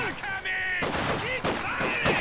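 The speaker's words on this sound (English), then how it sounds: "I hate machine guns!" Rapid video game machine gun fire rattles in dense bursts alongside game sound effects, loud and close throughout.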